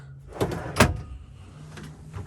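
A couple of short wooden knocks and slides close by, like a drawer being pulled open and pushed shut in a 2001 Roadtrek 200 Class B motorhome, with quieter clicks afterward.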